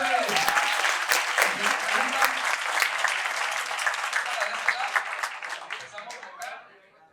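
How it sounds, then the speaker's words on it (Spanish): A podcast audience applauds in a dense, sustained wash of clapping that holds for several seconds with voices mixed in, then fades out near the end. "¡Aplausos!"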